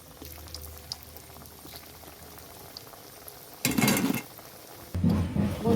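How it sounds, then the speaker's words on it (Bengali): Semolina sweets frying in hot oil in a pan, a soft bubbling sizzle that swells into two loud, dense bursts of crackle near the end, with no talking. "আরগুলো আমি একইভাবে ভেজে নেব"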